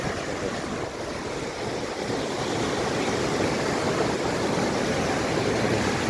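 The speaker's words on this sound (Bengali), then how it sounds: "বড় বড় ঢেউ" Big ocean waves at Kuakata beach roar steadily nearby, a loud, unbroken wash of surf mixed with gusting wind.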